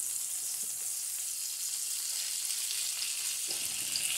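Chicken pieces sizzle steadily in a hot pan, a bright continuous fry hiss with a couple of soft bumps as the pieces are turned over.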